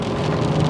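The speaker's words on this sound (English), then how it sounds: "help if it wasn't bucketing rain right now" Heavy rain pours down in Melbourne, a dense, steady hiss of drops drumming on surfaces, loud and continuous with no voices.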